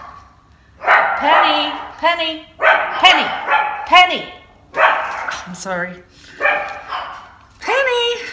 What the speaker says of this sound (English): excuse me, that's the dog again.